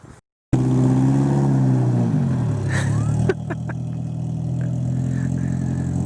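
A car with a stock motor running on E85 fuel idles loud and close, its steady engine drone rising briefly as it revs before settling back to a lower idle.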